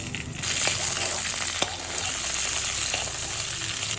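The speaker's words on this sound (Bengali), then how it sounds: "এই তেলে আমি শিম কটা একটু ভেজে নেব।" Cut flat beans hit hot oil left over from frying fish and sizzle loudly and continuously in the pan, with a few stirring scrapes up close and no talk.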